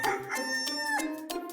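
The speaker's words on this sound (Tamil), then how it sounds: "அங்க பாருங்க, சேவல் கூட கூவிடுச்சு." A rooster crows close by in a rural home setting at dawn, a bright, harmonic call with rising and falling pitch lasting under two seconds, with no talking over it.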